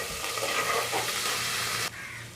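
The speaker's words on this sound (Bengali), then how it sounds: "এবার আমি এতে 1 চামচ আদা বাটা দিয়ে দেব। ভালো করে ভাজবো যাতে কাঁচা স্মেলটা চলে যায়" Ginger paste with garlic paste frying and being stirred in a pan for mutton curry, a steady close hiss and sizzle with scraping stir, quieting abruptly near the end.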